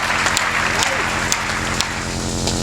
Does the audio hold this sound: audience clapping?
yes